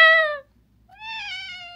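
A house cat meows twice up close, a short loud call followed after a brief pause by a longer, drawn-out meow, with no voices.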